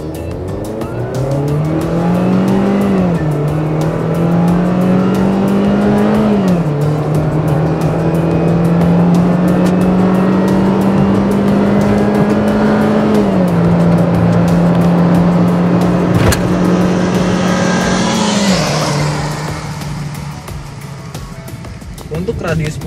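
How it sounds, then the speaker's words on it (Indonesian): Chevrolet Spin Activ engine on a test drive, a loud sustained drone that climbs in pitch with each gear and then drops back, running for about twenty seconds with talk over it. "kecuali suara mesinnya yang enak banget"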